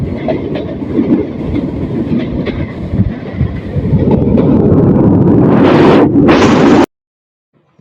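Passenger train running on rails in the rain between Alamdanga and Mobarakganj, a loud, steady close rumble with rattling carriage noise that swells louder before cutting off abruptly near the end.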